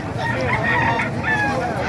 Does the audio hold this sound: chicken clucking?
yes